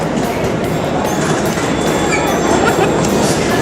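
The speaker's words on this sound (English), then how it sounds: "by far my favourite means of transportation, you can take the train" A train rumbles along steadily from inside a carriage, with a constant low roar, rattling, and faint high squeals from the wheels on the rails.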